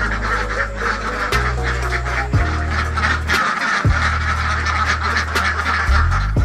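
Alabio laying ducks quack loudly and close up in a noisy flock, with overlapping nasal honks repeating throughout and no talking.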